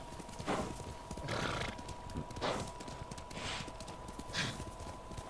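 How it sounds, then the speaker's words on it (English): Hoofbeats of a galloping horse in Ghost of Tsushima, with neighing, five or so evenly spaced thudding bursts over a steady game ambience, no talking. "Ride, but stallion, ride like the wind."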